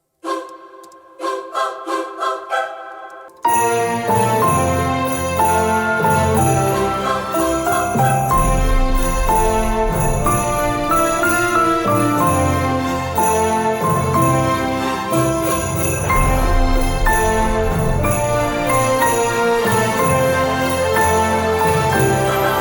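Orchestral Christmas music opens with a few soft tinkling bell-like notes, then swells into a full, loud, sustained ensemble with choir phrases and strings carrying on steadily throughout, no talking.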